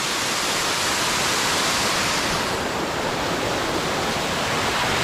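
Fast-flowing water at a hidden waterfall in dense forest crashes in a loud, continuous, close roar that fills the whole clip, with no voices.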